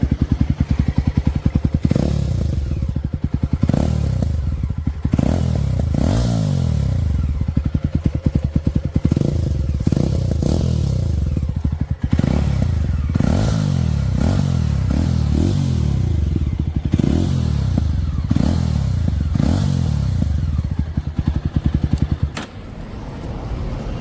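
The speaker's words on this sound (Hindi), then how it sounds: "हाँ भाई, तो इसका मैं एग्जॉस्ट सुनाता हूँ आपको।" A Jawa 42 motorcycle exhaust with an aftermarket silencer revs repeatedly in sharp, loud bursts over a steady idle, with crackling pops between the throttle blips.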